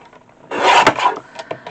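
A trimmer blade slices a piece of scrap cardstock down to size in one short, close scraping cut of about a second, followed by a few faint light clicks.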